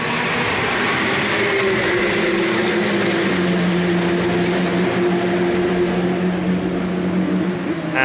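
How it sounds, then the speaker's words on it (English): Endurance race cars at the Red Bull Ring circuit, a steady roaring engine drone with a slowly shifting pitch, continuous and fairly loud throughout. "The battle goes on between these 2 cars into the 4th corner of the racetrack."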